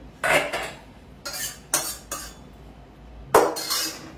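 Soybean curry ladled out of a metal pot into a bowl: several sharp close clinks and scrapes of spoon against pot and dishes, spaced out by quiet gaps, with no talking.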